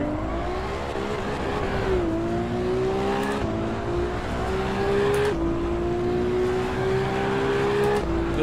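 A Ferrari engine revs steadily in Assetto Corsa EVO, holding a loud, buzzing drone that climbs in pitch and drops at a few gear shifts over the whole stretch.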